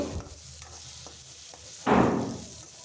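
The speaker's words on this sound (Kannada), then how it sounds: "ಇಷ್ಟೆಲ್ಲನೂ ಹಾಕಿ ಚೆನ್ನಾಗಿ ಫ್ರೈ ಮಾಡ್ಕೊಳ್ಳಿ ಅದು ಸ್ವಲ್ಪ ಕೆಂಪಗಾಗಬೇಕು" Onions and tomatoes fry in a pan for a country-style chicken curry, giving a soft sizzle broken by scattered spoon-stirring scrapes, with one louder scraping stir near the end, close and fairly quiet.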